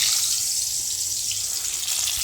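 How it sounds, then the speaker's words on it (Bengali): Beaten eggs hit smoking-hot mustard oil, giving a steady, loud hissing sizzle that stays constant throughout, with no talk. "তো চলো মাখানো ডিমগুলো এর মধ্যে এবার দিয়ে দিচ্ছি।"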